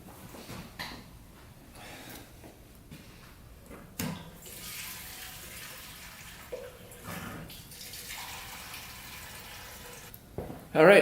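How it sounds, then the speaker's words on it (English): Old gasoline drains from the fuel tank of a three wheeler being repaired, making a faint, trickling, water-like pour that starts and stops in a few bursts. Occasional handling clunks are heard, with a louder knock at the end. "Alright, draining the old gas, and then we'll get some fresh gas in there."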